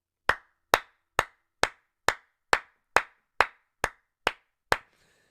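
About eleven sharp, evenly spaced hand claps from one person, loud and close, each with a quick decay, ending in a faint murmur.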